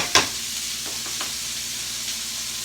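Onions and mushrooms sizzle steadily in a pan for a sloppy joe casserole, a constant close hiss opening with a sharp clank of a utensil and a few soft scrapes of stirring.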